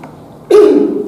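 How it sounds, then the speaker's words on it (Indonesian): One person gives a single sharp cough, close and loud, that bursts out suddenly after a quiet moment and trails off briefly. "Wah, kok malah jadi orang batuk ini"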